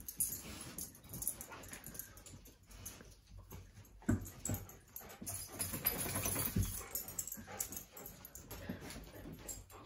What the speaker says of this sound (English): Where'd all these dogs come from?